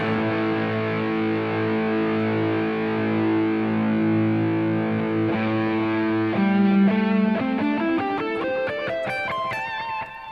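A distorted electric guitar plays a stretched pentatonic lick. A sustained, gritty tone gives way to quick ascending notes that climb higher and higher, loud and steady, with no talking.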